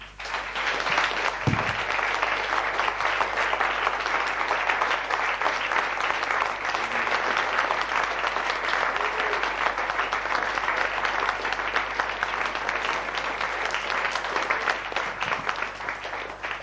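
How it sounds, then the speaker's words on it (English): An audience at a 1996 Body Electronics instructors course applauds warmly, dense sustained clapping that fills the room for over sixteen seconds without easing, loud and close, with no speech over it. "let's just give these guys a great, warm hand of applause."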